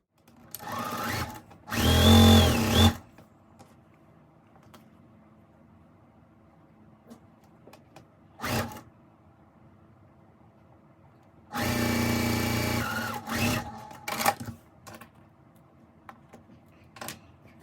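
A sewing machine stitches a quilt block in two sustained runs, one short and one longer, its motor whirring loudly, with brief bursts and quiet handling pauses between them and no talking.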